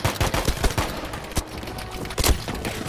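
Rapid bursts of gunfire from a Battlefield V match, with dense clusters of loud shots and sharp single cracks close by, one heavy boom near the middle. No one speaks.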